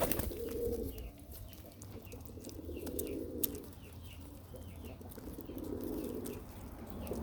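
Pigeon cooing, low and repeated in soft bursts, from a loft of fancy pigeons with strong bodies and wings, amid steady background noise and faint chirps.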